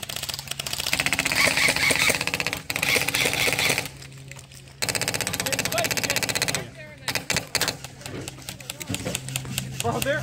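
A tank combat video game, with rapid loud machine-gun bursts and rumbling engines forming a dense, continuous barrage that briefly drops out, while players talk excitedly over it.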